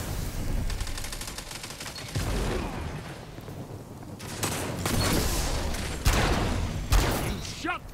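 Rapid bursts of gunfire in the video game Destiny 2, loud and continuous with sharp cracks and mechanical clatter, while voices talk underneath.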